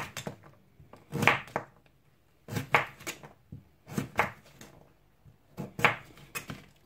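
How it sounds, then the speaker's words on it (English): A knife chops swede on a chopping board at the edge of a work surface, with four clusters of sharp, loud knocks spaced about a second apart and brief quiet gaps between them. "And then just chop the small pieces that hasn't gone through."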